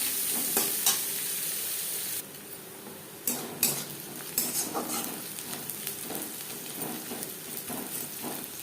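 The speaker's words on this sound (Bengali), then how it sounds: "তিন চার মিনিট পেঁয়াজ ভেজে নেওয়ার পর" Chopped onions sizzle in a pan for an aloo chicken curry, the frying hiss broken by repeated spoon clinks and scraping as they are stirred. No speech.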